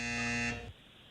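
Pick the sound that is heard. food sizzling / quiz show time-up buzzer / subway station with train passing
quiz show time-up buzzer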